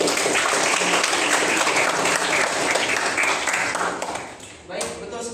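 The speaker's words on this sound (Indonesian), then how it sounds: "Oke, kita kasih aplaus dulu." A class applauding during an Islamic religious education lesson, several seconds of dense, loud clapping that tapers off near the end, followed by a short final burst of claps.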